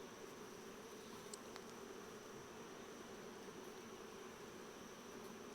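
Honey bees hum in a steady, close, dense buzz from an opened hive, a constant insect drone with no talking over it.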